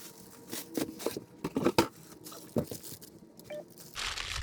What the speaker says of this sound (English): Let's get it unpackaged.